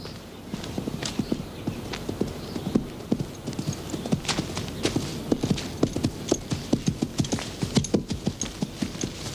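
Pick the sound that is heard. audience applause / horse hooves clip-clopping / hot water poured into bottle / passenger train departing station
horse hooves clip-clopping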